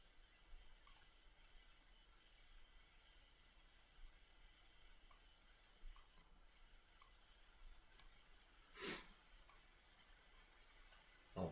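Faint mouse clicks from pressing stop and start buttons in a ladder logic simulation, scattered sharp ticks over a quiet background with one slightly louder click near the end.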